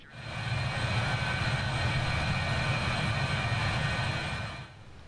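Steady, loud roar of BAe 146 jet engines climbing in Microsoft Flight Simulator, a constant whine and rumble holding level before fading out at the end.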